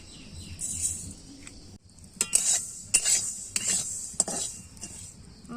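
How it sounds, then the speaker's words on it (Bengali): Gobindobhog rice dry-fried in a hot wok, a soft rattling hiss punctuated by several sharp metallic scrapes and clinks of a spatula against the pan, irregular and close, no talk. "প্রথমে গরম কড়াইতে গোবিন্দভোগ চাল ভেজে নিচ্ছি।"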